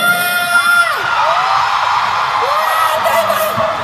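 A large concert crowd at a Bloom fan concert in Manila cheers and screams continuously, with rising whoops and shrill yells cutting through a dense, loud roar.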